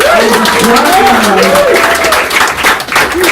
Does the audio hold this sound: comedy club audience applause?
yes